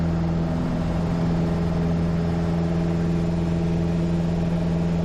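A small airplane engine drones steadily at full power during takeoff from runway 2 at a Delaware airport, a loud continuous hum with a strong low tone that holds constant throughout, with no talk.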